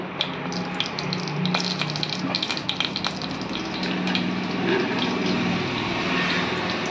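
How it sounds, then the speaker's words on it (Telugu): Sesame oil pours into a pan for frying dried prawns, giving a steady watery gush and trickle that stays fairly loud and continuous with no voices. "ఇదిగోండి నువ్వుల నూనె వేస్తున్నానండి"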